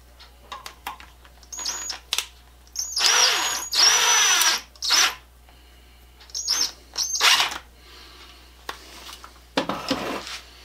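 Power drill driving screws into the wooden wedge of a mattock handle during a handle reset, several short whirring bursts that start and stop, loud and close, with clinks of metal in between.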